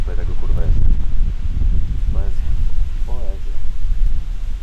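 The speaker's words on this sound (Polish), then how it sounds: "A jednak cały czas wieje wiatr" Steady wind at a lake rumbles and buffets the microphone close up, with rustling underneath. People talk over it in short bursts.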